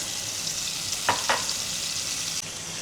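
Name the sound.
sautéing green beans with minced garlic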